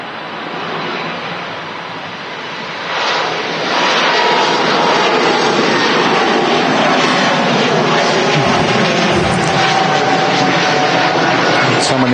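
Helvetic Airways Embraer E2 jet passing at Manchester Airport, a loud broadband engine roar that swells after a few seconds and holds steady and close for the rest of the clip, with no talk over it.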